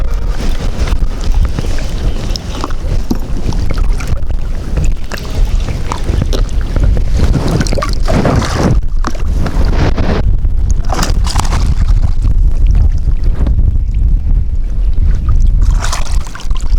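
Strong wind rushes steadily over open water on a bass fishing boat, a loud continuous roar with gusty buffeting against the microphone throughout, with no talking.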